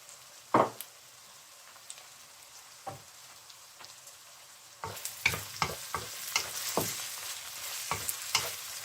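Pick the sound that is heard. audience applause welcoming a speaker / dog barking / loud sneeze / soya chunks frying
soya chunks frying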